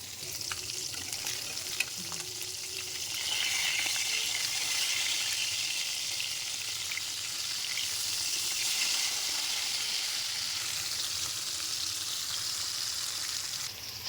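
A spice paste with green chilies, cooked for dried fish with bean seeds, fries in a pan with a faint, steady sizzle that grows slightly louder after a few seconds and continues evenly.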